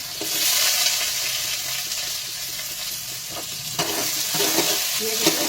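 Onions frying with cumin seeds in a pan for a dahi bara aloo dum dish, a steady close sizzle with scattered stirring scrapes and clicks, no talk.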